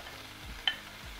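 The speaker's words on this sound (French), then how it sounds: "Je vais y mettre les tomates." Tomatoes go into beef frying in a Cookeo multicooker, giving a faint, soft sizzle with a small plop and light stirring over a quiet background.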